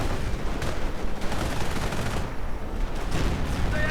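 Gunfire and flak crackle continuously during a video game strafing run in a World War II strategy battle, dense rattling bursts and thuds layered at a moderate, steady level.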